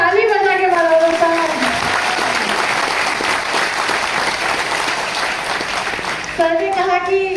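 An indoor audience clapping together, dense and loud continuous applause filling several seconds, with a voice speaking briefly at the start and again at the end.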